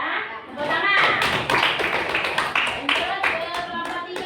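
A classroom of students claps for group 2 in a religious studies lesson, a dense burst of many hands close by that runs steadily for several seconds with loose, uneven slaps.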